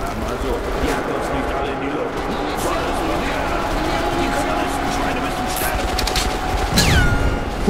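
A heavy weapon in Metro: Last Light Redux fires in rapid sustained bursts, loud and close, with a player talking over the gunfire and a sharp crack near the end.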